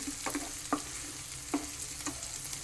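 Onion and green chili frying in a pan over low heat, a steady soft sizzle with a few light clicks of a spoon against the pan.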